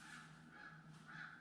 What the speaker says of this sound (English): That crow out there, I might have to get the BB gun.